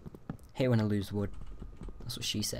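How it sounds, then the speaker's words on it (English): A computer keyboard clatters in the background with quick clicks while someone talks loudly and casually over it during a video game session. "if you can hear the monstrous beast in the background, that's my keyboard"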